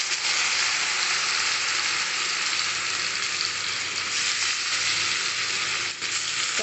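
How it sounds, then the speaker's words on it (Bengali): Tomato frying in oil and melted butter in a wok gives a loud, dense, continuous sizzle that holds steady throughout, close up and with no voices. "এবার প্রথমে টমেটো দেবো।"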